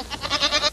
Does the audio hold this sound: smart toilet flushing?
no